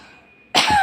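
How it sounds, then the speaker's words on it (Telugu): A single sharp, loud cough bursts out after a moment of near-quiet hum, close to the listener. "దగ్గు వస్తుంది."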